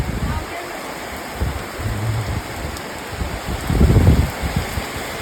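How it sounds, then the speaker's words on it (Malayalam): Steady, dense hiss of heavy rainfall fills the scene, with brief low rumbles and a voice speaking faintly underneath. "നല്ല മഴ പെയ്തു ഗൈസ്."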